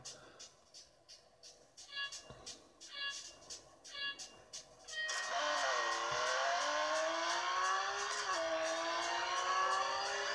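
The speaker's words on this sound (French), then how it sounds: "On va passer directement à Real Racing 3." Racing-game car engine audio from Real Racing 3 played on a Vernee M5 phone: after short bursts of intermittent game sounds, a loud steady engine drone with rising revs sets in and holds through the end.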